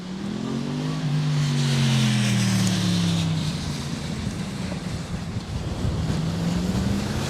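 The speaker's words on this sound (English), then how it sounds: "Oh man, that's some wind." Strong wind roars across the microphone while cycling through Amsterdam West, a loud continuous buffeting rush with a low engine-like drone of passing traffic underneath.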